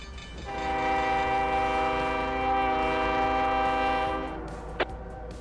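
A locomotive horn in the Trainz railroad simulator on the Conway Southern line sounds one long, loud, steady chord for about four seconds, then cuts off, followed by a brief click.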